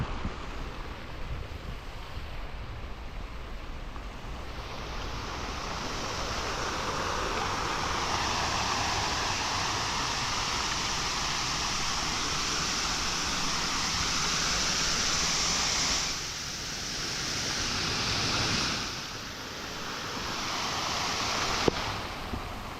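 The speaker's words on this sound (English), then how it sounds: "The Linden Alley Fountains, I think that's what it's called." Water from the Linden Alley Fountains in Almaty rushes and splashes in a continuous broad wash, with brief dips in intensity partway through.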